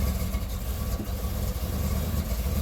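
Chevrolet Camaro Z28 with an LT1 V8 running with a 2-step launch limiter engaged, a steady, loud low rumble that holds close and constant without a break.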